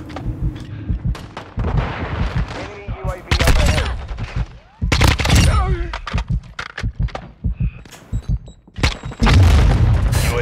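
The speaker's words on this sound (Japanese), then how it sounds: "空爆じゃなくてグレネード。" Grenade blasts and gunfire in a Call of Duty: Modern Warfare 2 multiplayer match, several loud booms among bursts of shooting, with a player talking over the action.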